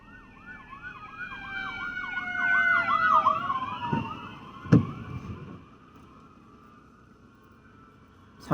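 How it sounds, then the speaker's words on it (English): An ambulance siren wails in a rising and falling sweep as the vehicle passes close by from inside a car being driven home, loud for several seconds, then a sharp thump and the siren fading away into road noise. "there's an ambulance."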